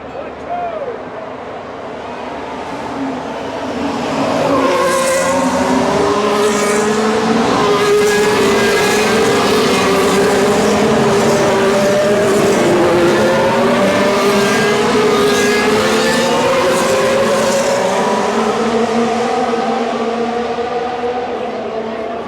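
Formula 1 cars racing at the Singapore Grand Prix night race, a loud, sustained high-pitched engine scream rising and falling in pitch as cars pass and accelerate, with crowd noise beneath.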